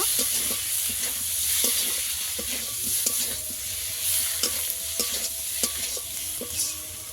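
Turmeric and chili powder are stirred and fried in a pan, a steady low sizzle broken by repeated scraping clicks of the spoon against the pan, fairly quiet and without talk.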